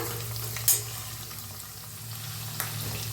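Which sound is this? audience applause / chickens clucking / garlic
garlic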